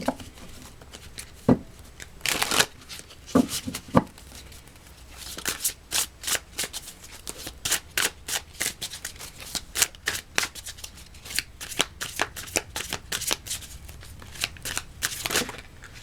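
An oracle card deck is shuffled by hand, with a steady run of crisp riffling and slapping bursts that continues through the whole stretch, close and fairly loud, with no talking.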